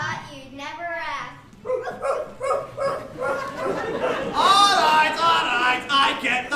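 Children on a theatre stage imitate a dog barking with their voices, a run of yelping woofs followed by chattering and more bark-like calls under a lively group.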